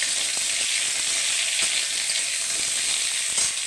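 Potatoes and vegetable stems fry in a pan with a loud, continuous sizzle, broken by a few sharp stirring clicks, and nobody speaks.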